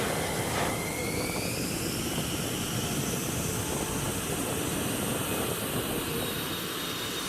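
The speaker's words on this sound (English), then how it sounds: "The fighter has a single turbofan engine" An F-16 Fighting Falcon fighter jet with a single turbofan engine roars loudly and continuously, a dense, steady jet blast with a faint rising whine, with no voices.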